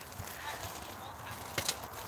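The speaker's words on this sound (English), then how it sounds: "we currently have horses goofing off" Horses play in a paddock in Maple Ridge, British Columbia, with a few soft hoof clops and shuffles at a distance, faint and irregular against quiet background noise.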